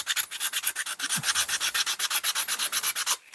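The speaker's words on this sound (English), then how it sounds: "something I forgot to do was go around this with the sandpaper" Hand sanding of MDF terrain building edges with sandpaper: about twenty quick, even rubbing strokes in a steady rhythm, close and loud, with no talking.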